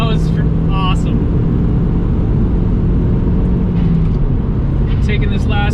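Audi TT 225 driving hard along a twisting canyon road, its engine and road noise a loud, steady drone throughout, with brief higher whines rising near the start and end.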